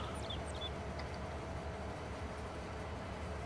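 A train in Farming Simulator 22 gives a steady, continuous rumble and rolling rail noise, held at an even level throughout with a few faint high tones and no talking.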